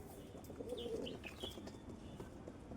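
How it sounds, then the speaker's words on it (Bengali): Kaldumа pigeons, black from waist to tail, give soft low coos at a loft in Andul, Howrah, with a few faint chirps over steady background hum. "কালদুমা পেয়ার পায়রা।"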